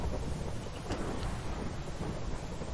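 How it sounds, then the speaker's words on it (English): Thunder rumbles through a Minecraft storm, a broad, steady low roar with rain-like hiss that holds for the whole stretch without pause, with no talking over it. "Oh, and it's thundering now."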